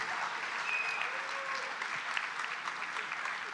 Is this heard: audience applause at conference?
yes